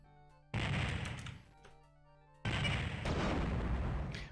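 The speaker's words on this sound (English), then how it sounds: "Mines have a bigger explosion radius." Two loud, near explosions in the DOS game Dark Forces, each a sudden booming burst with a rumbling, crackling tail, the second following after a short gap, with no talk over them.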